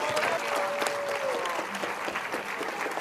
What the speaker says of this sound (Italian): un grande applauso